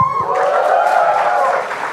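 Audience at a youth conclave in Delhi cheering and applauding steadily, a loud close wash of clapping with voices, tapering slightly at the end.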